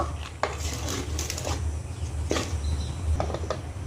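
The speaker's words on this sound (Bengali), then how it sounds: "চিনিটা দিয়ে আমি নেড়ে নেব" A utensil stirs sugar through jeera rice in a pan, giving a few scattered clinks and scrapes against the metal over a steady low background hum, moderately close and with no talking.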